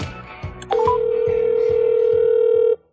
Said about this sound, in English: So I called her property manager there.